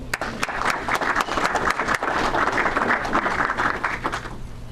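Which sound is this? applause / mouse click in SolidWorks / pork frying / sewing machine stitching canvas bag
applause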